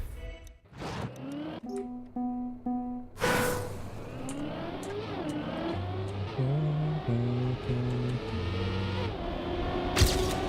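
A car engine in the racing game Trackmania revs and shifts through rising and falling tones, with sharp bursts and tire noise as the car speeds along, loud and steady throughout.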